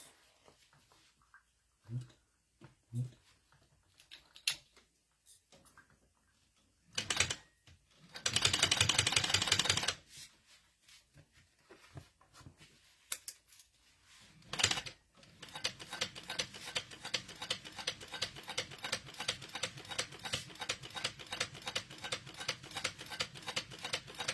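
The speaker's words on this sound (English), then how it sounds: "I'm going to top stitch this" A sewing machine top stitching a crossbody bag, running in short bursts at first and then settling into a long steady run of fast, even needle ticks, loud and close with no talk.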